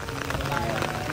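Steady rain falls outdoors at a cemetery, a dense, even patter of drops on surfaces throughout, with faint voices mixed in.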